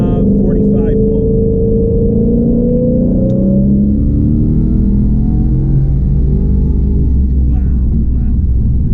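A 1000 hp twin-turbo Mustang GT pulls hard under acceleration, a loud, continuous engine roar with rising tones that climb steadily, heard from inside the car.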